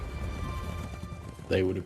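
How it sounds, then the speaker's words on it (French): Horses' hooves clip-clop at a trot, a steady dense rhythm under a busy, continuous backdrop, with a louder burst near the end. "Ils ont dû être totalement subjugués par les chevaux, ces immenses quadrupèdes."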